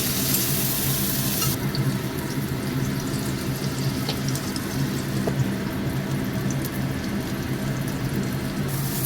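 Eggplant slices seasoned with salt and turmeric fry in oil left over from frying fish, giving a continuous dense sizzling hiss that stays close and fairly loud for the whole stretch, with no talking.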